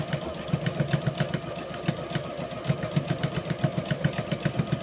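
A secondhand Brother sewing machine runs close by, its needle thumping in a steady, rapid rhythm with a low motor hum underneath, holding an even pace throughout.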